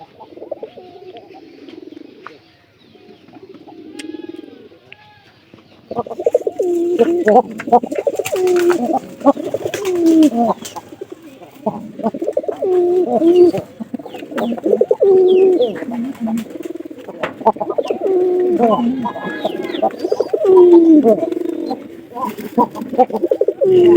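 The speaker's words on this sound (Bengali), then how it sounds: "এটা জোড়া নিলে নতুন নতুন কবুতর কিন্তু প্রচুর ডাকে" Newly paired pigeons, a local pigeon with a Giribaz, coo close by, deep throaty calls repeating in a steady rolling rhythm that grows louder and nearly continuous after a quieter start.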